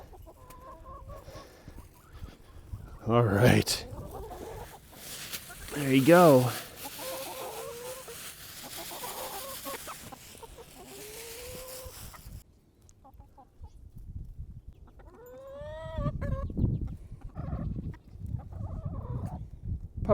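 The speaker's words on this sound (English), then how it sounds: "You crazy chickens." Backyard chickens in a run cluck and squawk excitedly at feeding time before sunrise. Bursts of close, loud clucking rise and fall, with someone talking quietly between them.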